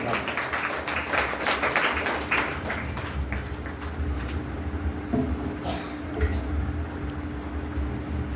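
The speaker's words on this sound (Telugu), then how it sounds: "అన్నగారి నామాన్ని అందరూ చప్పట్లు కొడతాం" A church worship congregation claps together in a steady, sustained round of applause with a faint voice underneath.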